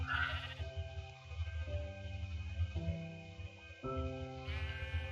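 Sheep in the Minecraft video game bleat repeatedly, a series of wavering, nasal calls sounding close and clear against a quiet background, with no talking.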